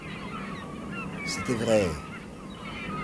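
Agitated geese-like birds stir and honk in a radio drama, a short burst of calls rising mid-clip over a murmuring background while a voice speaks briefly.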